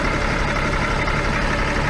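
Steady, loud engine rumble from a blue tractor idling up close, continuous broadband drone with no pauses and no voices over it.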